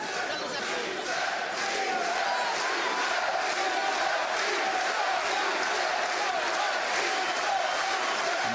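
Loud, sustained boxing crowd roaring and chanting for their fighter at a WBA super middleweight world title bout, a dense wall of voices with rhythmic pulsing that holds steady throughout.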